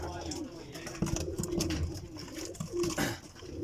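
Sialkoti pearl-marked pigeons coo softly and repeatedly nearby in a loft in Kotli, Azad Kashmir, low throaty calls rising and falling over a steady background hum.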